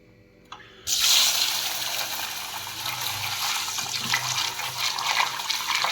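Water is poured into a vessel of soaking rice and urad dal after a brief tap, then splashes and gushes steadily and close for several seconds, with no voices.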